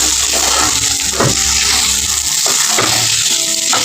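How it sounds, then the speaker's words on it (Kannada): Freshly ground coconut fries in hot oil for leftover-idli upma, giving a loud, steady hiss with occasional stirring scrapes and no voices. "ಈ ಹುಸಿ ಕೊಬ್ಬರಿನ ಜರ ಚೆಂದಾಗಿ ನೀವು ಫ್ರೈ ಮಾಡ್ಕೋಬೇಕು ಇದನ್ನು"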